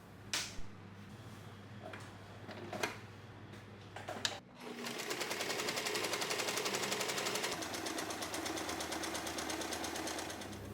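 A sewing machine runs steadily along the edge of tote bag fabric, a close, continuous whirring hum after a few short clicks and knocks at the start, with no talking.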